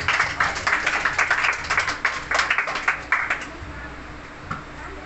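An audience at a church meeting claps together to welcome a pastor, a steady patter of many hands that swells, thins out and fades toward the end.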